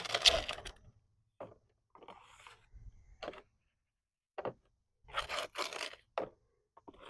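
A stainless steel or plastic trowel scoops soil into a sample box, making a series of short, close scraping and gritty rubbing strokes separated by quiet gaps, with no voices over them.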